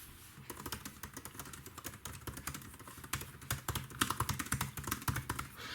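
Typing on a 16-inch MacBook Pro keyboard, a quick run of crisp, close key clicks in uneven bursts that grow busier toward the end, with no talk.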